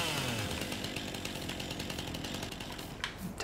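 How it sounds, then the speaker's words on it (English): A chainsaw in the video game Farming Simulator 19 buzzes steadily as it cuts tree trunks, a short, even whine heard alone at a quiet level. "Take that off and run with the chainsaw."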